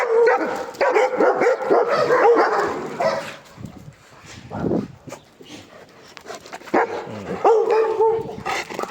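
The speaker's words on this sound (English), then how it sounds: "Who are you barking at, Becca, eh?" A dog barks in loud, close bursts, first a run of repeated barks, then a pause with a short whimper, then more barking.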